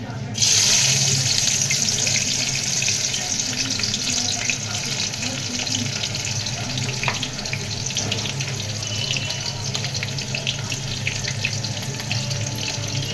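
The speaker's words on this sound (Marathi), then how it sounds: "आता मी मिरची सगळ्यात पहिली मिरची टाकत आहे।" Green chillies drop into hot oil for sabudana khichdi and fry in a loud, continuous close-up crackling sizzle that holds steady throughout.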